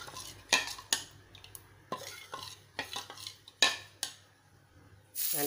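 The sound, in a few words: stirring ghavne rice batter in a pot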